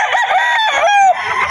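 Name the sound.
rooster crowing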